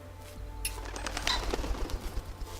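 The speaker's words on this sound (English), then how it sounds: "Oh, birds." In Sir, You Are Being Hunted, birds flap and call as they startle into flight, a flurry of wingbeats and a few coos and chirps over quiet outdoor ambience.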